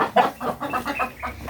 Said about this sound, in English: I heard the noise from our chicken again